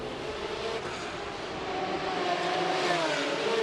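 A Formula 3 race car at the Macau Grand Prix qualifying, running down Black Sands toward Fisherman's Bend, its engine a steady buzzing drone that swells slightly louder as it nears, with no talk.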